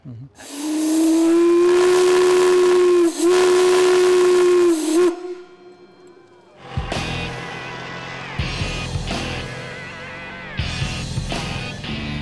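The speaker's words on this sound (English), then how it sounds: "It's got a big whistle on it, and we'll blow the whistle." A loud steam engine whistle at a county fair blows in one long, steady blast lasting several seconds, then cuts off, followed by hissing steam and mechanical clatter.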